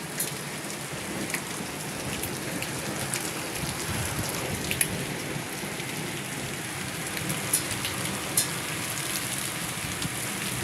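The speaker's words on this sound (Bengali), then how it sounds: "শিলাবৃষ্টি হয়েছে" Hail falls steadily outside during a daytime storm, a dense continuous patter on surfaces with occasional sharper impacts, alone with no talking.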